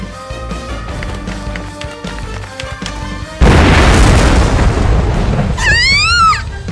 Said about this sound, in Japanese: 足元から地下で爆発でも起きたのか？